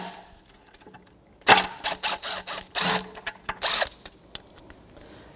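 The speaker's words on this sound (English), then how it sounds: "10mm socket." Ratchet with a 10mm socket removes a bracket from an old intake manifold off a 2014-2019 Toyota Corolla 1.8L four-cylinder, heard as a burst of close, sharp clicking strokes in quick groups, with no talk.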